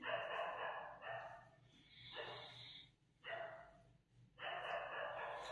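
A dog barking and breathing hoarsely in bursts somewhere in the background, fairly faint, with pauses between the runs of barks.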